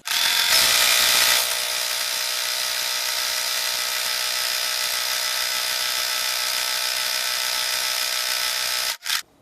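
A domestic sewing machine stitches fabric for an embroidered placemat: a steady, continuous mechanical whir held at even loudness for several seconds, louder at the start, then stopping abruptly before a brief final burst.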